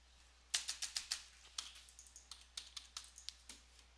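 Fingers type on a computer keyboard, producing close, crisp clicks in quick uneven bursts with short pauses between them, heard alone in a quiet room.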